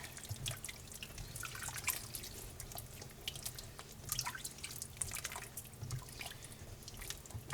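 Green beans being stirred in a pot after a pinch of seasoning, giving steady wet clinks and drips of water throughout, fairly close and continuous, with no talking.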